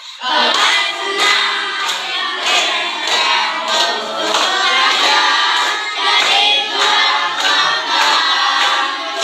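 A classroom of students claps in rhythmic unison as a chant, with sharp, evenly spaced group claps and voices mixed in, loud and close throughout.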